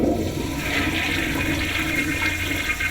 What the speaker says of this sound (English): it's high-quality drinking water that we use to flush our toilets